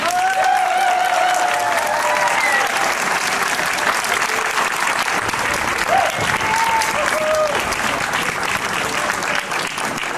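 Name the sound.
audience applauding at troubadour tournament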